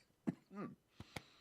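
A couple of quiet, short coughs with a brief throat-clearing sound between them, close but faint.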